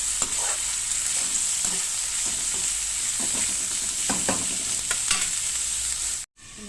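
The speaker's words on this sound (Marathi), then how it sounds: "कांदा लसूण मिरची शेंगदाणे कढीपत्ता छानपैकी फ्राय झालेला आहे" Onion, garlic, chili, peanuts and curry leaves frying in a pan, a loud steady sizzle close by with light stirring scrapes and taps, broken by a brief silence near the end.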